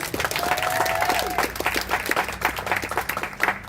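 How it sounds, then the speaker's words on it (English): Mourners at a memorial life celebration clap in a short burst of uneven applause, with individual claps distinct and a faint tone briefly audible early on. "that is also worthy of applause"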